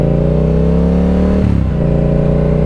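Yamaha R7 motorcycle accelerating hard in a launch test, a loud, steady engine drone climbing in pitch, with a brief dip like a gear change midway before pulling on again.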